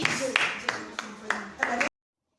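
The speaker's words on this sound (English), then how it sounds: "Appreciate yourselves. Clap for yourself." A small group clapping after a simple distillation science project, about six distinct claps spaced irregularly, close by, with a voice talking over them before a sudden cut to silence.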